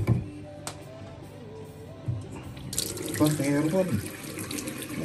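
Water starts running from a tap partway through, a steady splashing hiss under a man's brief spoken remarks.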